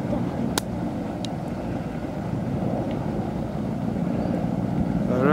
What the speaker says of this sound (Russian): целая куча вертолетов над Каменском